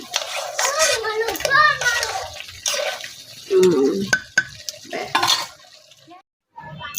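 Fried potatoes tipped into a pan in a home kitchen and stirred, a spoon scraping and clinking against the metal with a few soft wet knocks, while a voice and other speech carry on throughout.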